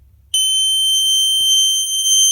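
A loud, steady electronic horn tone from a Snap Circuits kit starts abruptly and holds continuously, piercing and shrill like a small buzzer alarm.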